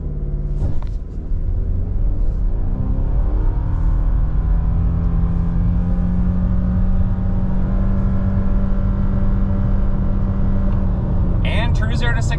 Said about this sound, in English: 0 to 60, traction's off, sport mode is on, I'll brake rev the CVT.